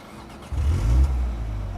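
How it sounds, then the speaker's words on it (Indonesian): A Mini Cooper JCW GP engine turns over and catches with a low rumble, briefly rising before settling into a steady idle nearby. "sekarang kita hidupkan mobilnya ya"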